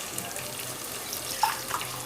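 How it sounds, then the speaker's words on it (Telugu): Water is poured into a pot of rice for cooking, a steady close splashing rush that runs the whole time with a few small gurgles. "ఇప్పుడు మనం వాటర్ వేసుకోవాలి."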